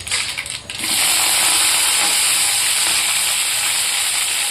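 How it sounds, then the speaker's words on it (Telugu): Green chillies and curry leaves hit hot oil that already holds tempering spices, and a loud, close sizzle bursts up about a second in, then holds as a steady, bright hiss. "ఇలా పచ్చిమిర్చి, కరివేపాకు యాడ్ చేసుకున్న తర్వాత కొంచెం ఫ్రై అవ్వనివ్వండి"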